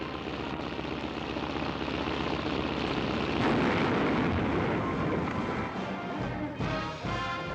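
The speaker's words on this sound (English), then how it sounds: "Why does Crack Up Frakes love to crash airplanes?" A loud, sustained crashing roar with heavy rumbling and crunching debris as an airplane slams into a house, tapering off near the end.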